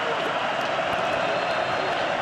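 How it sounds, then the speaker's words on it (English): Steady, dense crowd roar fills a domed stadium during a UFL football game between the Michigan Panthers and St. Louis Battlehawks on third down, a continuous wash of cheering noise without clear breaks. "Home dome advantage with the roar of a crowd on 3rd and 7."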